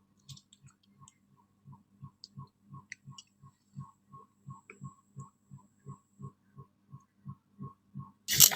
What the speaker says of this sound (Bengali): বন্ধুরা, আমি মশলা শিলে বেটে নিচ্ছি।